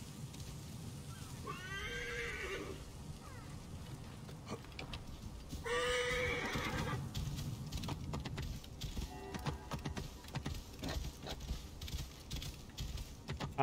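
In the video game Assassin's Creed Origins, a horse whinnies twice, fairly faint and spaced apart, followed by a run of hoofbeats clopping in a quick rhythm against background game ambience.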